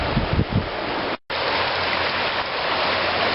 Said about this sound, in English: Even a shallow river can have fast water, and it makes them difficult to cross